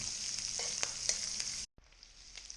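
Shrimp sear in a hot pan for fried rice, a bright steady sizzle with a few crackling pops. It cuts out for a split second, then carries on just as strongly.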